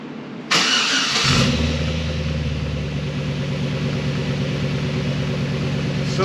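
A supercharged off-road 4x4 engine cranks briefly, catches and settles into a steady, loud idle with a deep rumble and a faint high whine, heard up close with no one talking.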